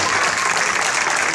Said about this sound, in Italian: voglio sentire un applauso proprio bellicino